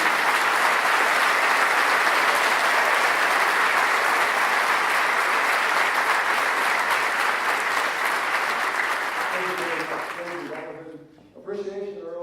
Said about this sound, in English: give Mr. Mann a big round of applause